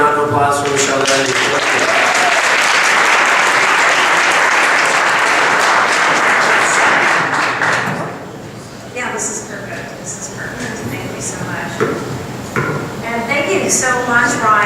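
A room full of attendees at a Mobile Monday Silicon Valley tech meetup applauds loudly and steadily for about eight seconds, then the clapping fades as a voice begins talking.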